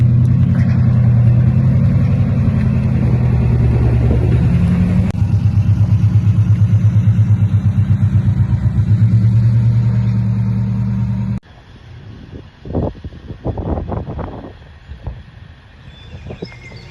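A lowered 1995 Subaru Impreza coupe drives with a loud, steady engine drone for about eleven seconds, then the engine note drops away to quieter idling with a few short revs and bursts.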